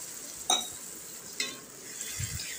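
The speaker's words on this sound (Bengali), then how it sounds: "জলটা দিয়ে একটু ভালোভাবে নাড়াচাড়া করে দিচ্ছি।" A spoon stirs egg curry masala in a pan after water goes in, giving soft scraping sweeps, a couple of sharp metal clinks against the pan and a faint bubbling sizzle, quiet and close.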